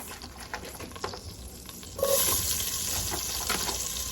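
Onions tipped into a hot pot for homemade beef stew after the meat is taken out, a quiet stirring stretch giving way to a sudden, steady loud sizzle that holds to the end, with no voices.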